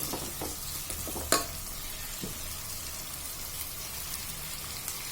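Ginger garlic paste sautéing in a pan for Kerala chicken stew, a soft steady sizzle with light stirring scrapes and one sharper clink near the start, with no talking.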